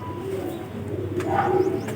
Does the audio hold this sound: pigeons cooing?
yes